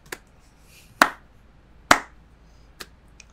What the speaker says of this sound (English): And there's a slow clap.